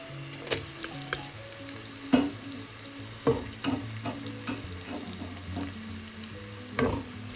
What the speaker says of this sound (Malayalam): വഴണ്ട ശേഷം നമുക്ക് ഉള്ളി ചേർക്കാം.